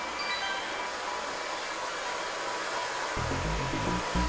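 A hair dryer runs with a steady, close whir next to a sleeping cat that is deaf, holding a constant broadband hum, with a brief louder thump near the end.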